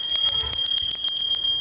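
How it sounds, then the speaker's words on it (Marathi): A small brass bell from a puja set rings rapidly and repeatedly, bright and close, a rhythmic string of strikes with no speech. "अशी घंटी आहे"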